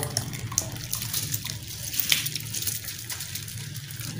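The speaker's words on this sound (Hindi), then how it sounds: "अभी हम डाल देते हैं इसमें अपने चावल, बहुत ही मज़ेदार बासमती चावल।" Basmati rice poured into a pot of boiling water on a stove, giving a steady watery bubbling and sloshing hiss throughout, close and fairly soft, with no talk over it.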